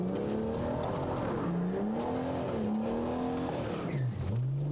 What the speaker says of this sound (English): Quick donut, mark the occasion.